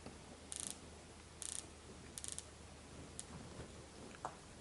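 The crown of a Tudor Black Bay Bronze dive watch being wound gives short bursts of fine, rapid ratcheting clicks, close and quiet, separated by pauses, followed by a few single ticks.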